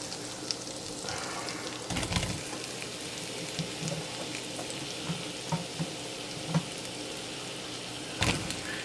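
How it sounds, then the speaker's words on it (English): Mushrooms hit melted butter seasoned in a pan and sizzle steadily, with a few soft clunks and stirring scrapes, close and alone without talk. "now I'm going to add the mushrooms. I'm going to saute the mushrooms in this glorious seasoning"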